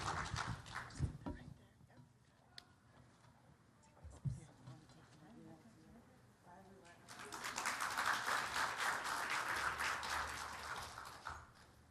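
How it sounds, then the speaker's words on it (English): Audience applause at a health summit rises in the latter half into a full, steady burst of clapping, after quieter moments with scattered claps and a voice speaking. "Can we get a round of applause for Sandra?"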